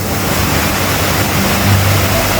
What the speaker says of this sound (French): Regardez-moi cette magnifique cascade, c'est pour vous, cadeau.